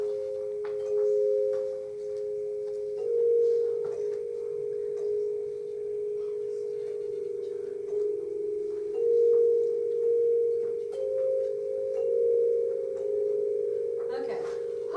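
Handbells rung and left to vibrate freely, producing steady, sustained pure tones that shift between a few pitches and ring on without being damped, moderately quiet with faint background noise.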